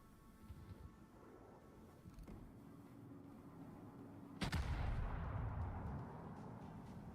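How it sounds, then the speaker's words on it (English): Naval guns of the warship Britannia fire in World of Warships, one loud, sharp blast followed by a rolling boom and rumble that fades slowly over steady low battle noise. "So there goes the Britannia firing."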